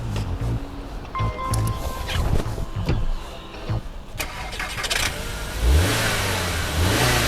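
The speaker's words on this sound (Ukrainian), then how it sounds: "сісти за кермо і завести наш автомобіль" A car engine cranks and fires up in frosty weather with help from a portable jump starter booster, then revs and settles into a steady running note, close and fairly loud, with no talk over it.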